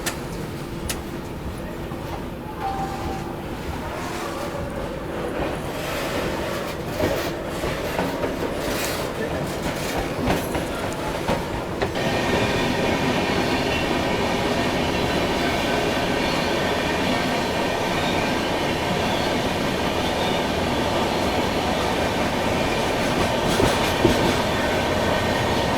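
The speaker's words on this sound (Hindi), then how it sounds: "चलिए निकल गई ट्रेन अपनी आसनसोल जंक्शन से।" Poorva Express rolling out of Asansol Junction rumbles steadily with rhythmic clatter of wheels on rails, the sound growing louder and denser as the train gathers speed.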